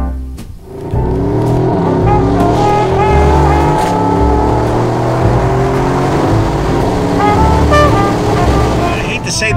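A 577 HP 2018 Mercedes-AMG GLE63 S Coupe accelerating hard, a loud engine roar climbing through gears with rising tones, close and continuous, with a voice speaking briefly over it.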